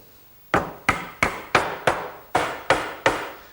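Eight sharp wooden knocks as slats of a garden bench are tapped together, spaced irregularly about a third of a second apart, each a crisp close hit with a short decay.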